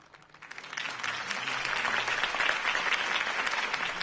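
A crowd's applause in the video game Batman: The Telltale Series swells from scattered claps into a full, steady round of clapping that holds without letting up.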